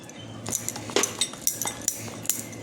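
A spoon or whisk stirring cake batter with milk and food colouring in a bowl for a mango cake, giving a series of close, sharp clinks and scrapes against the bowl at an irregular pace, with no talking.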